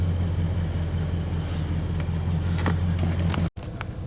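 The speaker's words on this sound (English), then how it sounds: "You hear the V8 rumble." Steady low engine drone from a 2021 Nissan Titan Pro-4X crew cab V8 heard from inside the cab while towing, a constant rumble with a few faint clicks and a brief dropout near the end.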